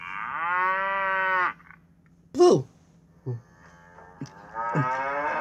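A cow moos in a long, loud, sustained low call, then a voice speaks a word and a second drawn-out moo rises near the end.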